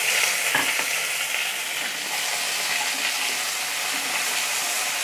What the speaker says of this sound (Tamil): சின்ன வெங்காயத்தை நல்லா நம்ம ஃப்ரை பண்ணிக்கலாம்.